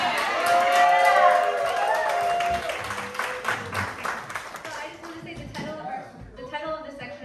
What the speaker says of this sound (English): At the top of your lungs, scream, cheer, loudest cheer yet.